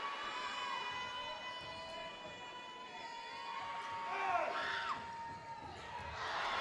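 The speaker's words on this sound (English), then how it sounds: "You can hear the Antelope crowd first making the noise, trying to distract him" Gymnasium crowd at a high school basketball game between Antelope and Bella Vista, roaring and shouting steadily to distract a free throw shooter, swelling louder partway through with cheering and children's shouts amid a broad wash of voices.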